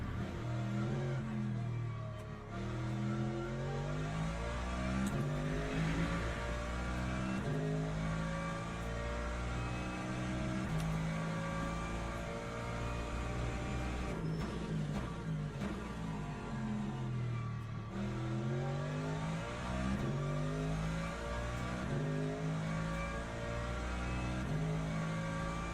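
An LMGT3 race car engine in Le Mans Ultimate runs continuously and loud, its pitch climbing through the gears, dropping on shifts and lifts, then rising again, with no talk over it.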